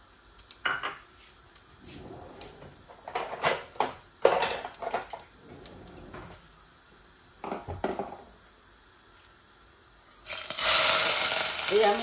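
Bay leaves, fenugreek and cumin dropped into hot oil for a Bangladeshi fish dish. Pots and utensils clink at first, then a loud, steady sizzle surges up at the end.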